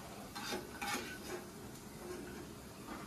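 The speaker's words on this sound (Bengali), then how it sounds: "বাদাম ভাজা হয়ে গেছে, বাদামগুলো এবার তুলে রাখছি।" Peanuts frying in oil in a frying pan while a vegetable chop is being made, with a soft, steady sizzle and a few light scraping and stirring strokes, faint and close.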